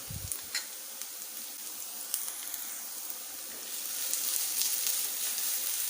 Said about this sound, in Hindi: यहाँ पर लहसुन अदरक का पेस्ट शामिल करते हैं।